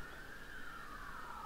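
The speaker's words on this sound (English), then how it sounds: "I don't know if you can hear, but there is firefighters or ambulance." A fire engine or ambulance siren passing outside, one long wailing tone that slowly falls in pitch, distant and faint under steady room noise.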